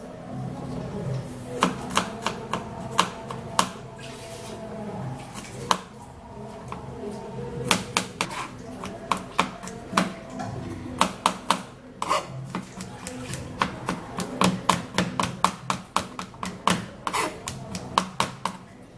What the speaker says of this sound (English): So what you're gonna do now is to cut the garlic in tiny pieces.